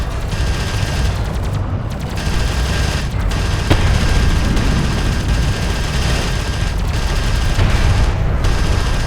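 Gunfire rages in the video game Homeworld: Deserts of Kharak as a loud, continuous roar of shots and booms, dense and unbroken, with occasional sharper cracks standing out.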